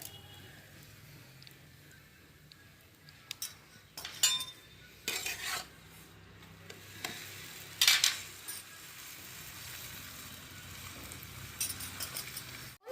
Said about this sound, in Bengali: একটা পরোটা ভেজে নেবো এবার